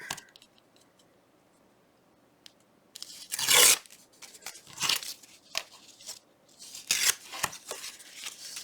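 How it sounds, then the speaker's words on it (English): A paper book page is torn, with its bottom part ripped away in a few loud, close bursts of tearing and crinkling separated by quieter handling of the paper. "Just tear off that bottom part."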